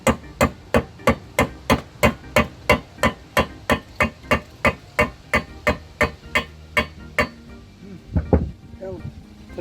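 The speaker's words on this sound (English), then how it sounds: "Hammer is the #1 precision tool." Steady hammer blows drive bushings into a mini bike during a build, about two strikes per second in an even metallic rhythm, close and loud, before stopping with faint handling noise at the end.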